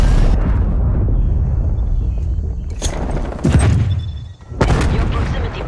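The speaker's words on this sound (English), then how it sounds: "Cruise missile inbound." A cruise missile strike in Call of Duty Cold War multiplayer: a deep, rumbling roar builds, then two heavy booming blasts land close together, loud and low.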